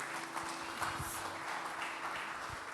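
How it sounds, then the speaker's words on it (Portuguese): A church congregation claps steadily in a large room, a dense wash of applause at moderate volume with a faint steady hum underneath. "Aplaudo ao Senhor pela vida da Aline."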